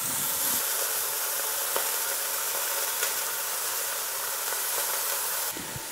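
A beef roast sears in a pot, giving a steady, moderately loud sizzle and hiss that carries evenly throughout with no talking.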